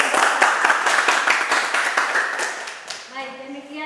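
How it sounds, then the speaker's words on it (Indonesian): A classroom audience claps after a group presentation, a dense run of quick claps that fades out near the end as a voice begins speaking. "Oke, tepuk tangan."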